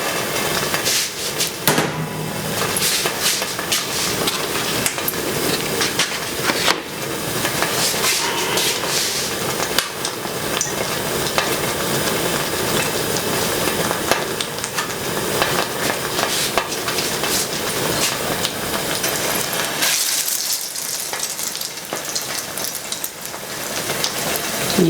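A chile relleno fries in hot grease, a dense, continuous crackling sizzle that stays loud and close for the whole stretch, easing slightly near the end.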